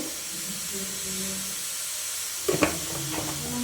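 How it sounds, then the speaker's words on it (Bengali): Oil goes into a hot pan beside potatoes and eggs, setting off a steady, moderate sizzle and hiss, with a couple of sharp crackling pops partway through. "এবার এর মধ্যে আমি তেল দেব"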